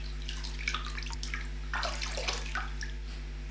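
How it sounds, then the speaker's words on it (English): Clean water splashes and trickles as a face is rinsed after oil cleansing, with soft, irregular splashes over a steady low hum. "I prefer to wash over the face with some clean water"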